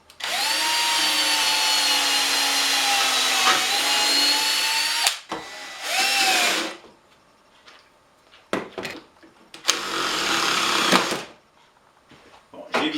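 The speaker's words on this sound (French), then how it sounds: "Et là, je pré-perce parce que c'est quand même du bois dur." A power drill bores a pilot hole in hardwood, a loud steady whine for about five seconds, then a short second burst, followed by quieter clatter and one more brief whirring run.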